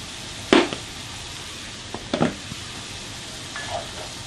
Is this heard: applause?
no